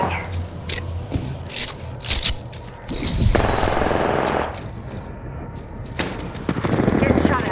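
In a PC shooter video game, loud bursts of gunfire crack and rattle in irregular volleys, with heavier sustained firing in the middle and toward the end, while voices talk over it.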